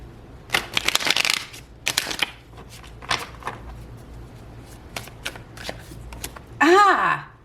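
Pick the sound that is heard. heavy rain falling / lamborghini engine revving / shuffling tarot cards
shuffling tarot cards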